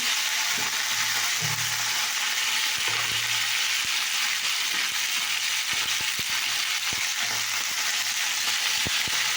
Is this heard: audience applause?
no